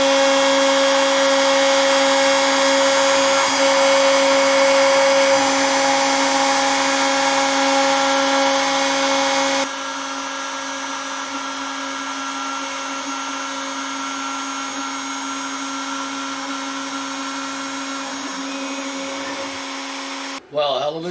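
A home-built CNC machine cuts a one-inch grid pattern with a steady, loud, constant machining whine throughout, stepping down slightly in level partway through before a brief clatter at the end.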